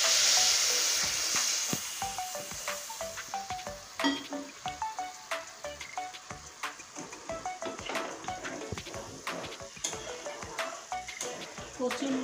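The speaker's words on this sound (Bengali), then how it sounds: "এবার এই তরকারিতে জল দিয়ে দিচ্ছি পরিমাণ মতো।" Water poured into a curry of kochur loti (taro stolons) and rupchanda fish with potatoes bursts into a loud hiss at first, then settles into a softer bubbling sizzle with irregular clicks and pops of the pan.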